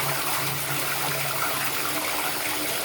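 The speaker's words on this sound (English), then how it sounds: "We're going to turn the water on and kick it on." Tap water pours steadily into a bathtub, a loud continuous rushing gush with no pauses.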